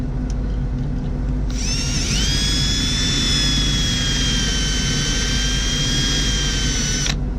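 A power drill boring through a roll pin in a Toyota ignition, a steady high whine that starts abruptly, holds for about six seconds and cuts off, close and loud over a low background rumble.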